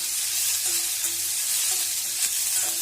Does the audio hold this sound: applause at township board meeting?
no